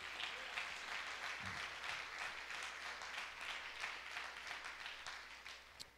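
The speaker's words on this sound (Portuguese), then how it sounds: "Quem pode dar uma salva de palmas para Ele?" Applause from a church congregation honouring Jesus Christ during a sermon, a steady, fairly faint wash of clapping that lasts throughout with no talk over it.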